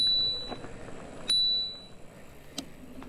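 Bicycle bell rung by a cyclist on a path along the Canal de Berry near Bourges, three sharp metallic dings spaced about a second apart, the middle one loudest, over soft outdoor ambience.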